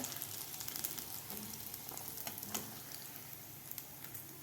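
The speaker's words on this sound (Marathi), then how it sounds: "दोन्ही साईडकडून आपल्याला हे वडे व्यवस्थित तळून घ्यायचे आहेत" Potato vadas frying in hot oil give a faint, steady sizzle with small crackling pops throughout, close and without talk.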